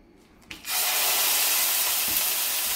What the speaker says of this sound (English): So I'm gonna sear them separately